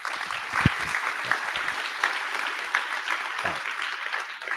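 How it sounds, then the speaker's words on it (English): Audience at a Toronto community event applauding for Kobe, a sustained round of many hands clapping with a few sharper thumps near the start and end. "Can I get a round of applause for Kobe?"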